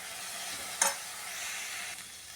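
Chopped garlic and a teaspoon of cumin seeds frying in a pan make a short, close hiss with one sharp crackle near the start.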